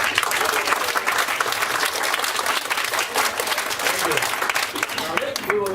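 Loud, sustained applause from an audience at a Rotary district gathering fills the whole stretch, dense clapping holding steady from start to finish with a faint voice underneath.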